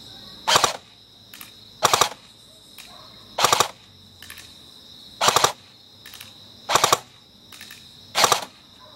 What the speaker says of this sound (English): now we're going to do 3-round bursts at the man-sized target at 125 feet.